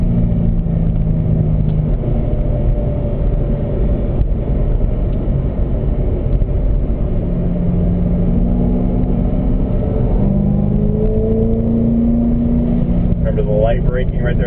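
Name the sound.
2011 Chevrolet Corvette ZR1 racing on track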